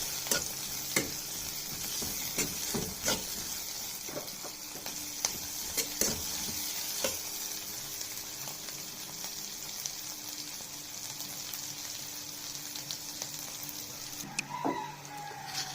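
Chopped onion and garlic fry for a biryani, giving a steady close sizzle broken by a string of spatula clacks and scrapes early on, then a quieter stretch of frying, with a faint clucking rooster somewhere in the background.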